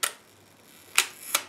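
Three crisp mechanical clicks from a vintage Voigtländer Bessa 66 camera shutter and lever: one at the start, then a close pair about a third of a second apart.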